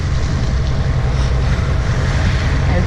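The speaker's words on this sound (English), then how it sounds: "Getting out into the nice Atlantic wind." Steady broadband wind roar with deep low rumble across a Hallberg-Rassy 54 sailing yacht in a 14-knot Atlantic breeze off Les Saintes, Guadeloupe, continuous and loud with no voices.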